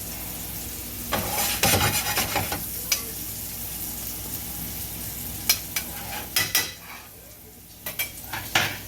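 Jambalaya cooking in a pan, a steady low sizzle broken by several loud scrapes and clanks of a utensil stirring against the metal, with quieter spells between bursts.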